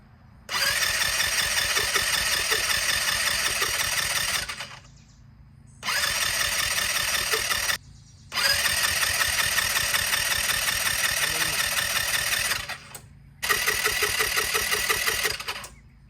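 Abandoned GY6 buggy engine firing up in repeated bursts, revving loudly for a few seconds at a time with short gaps between, then catching again and running with a raspy mid-pitched drone.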